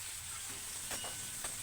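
Chopped onion and tomato with salt fry in a pan, giving a soft, steady sizzle with a couple of brief stirring scrapes, faint and close, with no talking.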